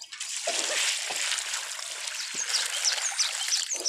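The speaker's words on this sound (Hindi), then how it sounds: "तो दोस्तों इसमें से पानी डाल देंगे" Water poured into a sand and cement mortar mix on a building site, a steady trickling, splashing flow running throughout at close range, with no talk over it.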